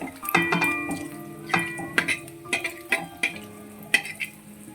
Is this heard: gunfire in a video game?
no